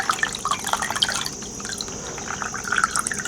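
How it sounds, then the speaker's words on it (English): Vinegar trickling and dripping through the tubes of a hummingbird feeder, a steady close wet patter of drips and small splashes throughout, with no talking. "We'll pour it through a couple of times."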